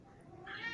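A house cat gives a single short meow indoors, faint and rising toward the end of a brief moment, with no talking over it.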